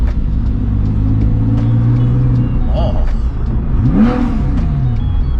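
Heard from a following car with the window slightly open, a vintage Mercedes engine rumbles roughly ahead, then revs up in a rising sweep; voices talk briefly over the steady road noise.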